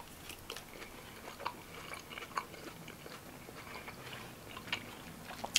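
Close, crunchy bites and chewing of fresh kimchi, scattered irregular crisp crunches at a restaurant table with no talking.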